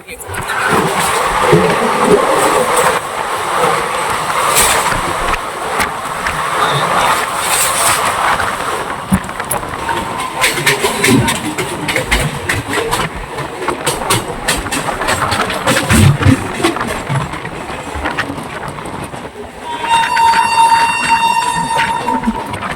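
The Vibhuti Express from Prayagraj to Howrah passing on a neighbouring track, heard as loud, continuous rushing rail rumble with a horn blast near the end, while people talk throughout.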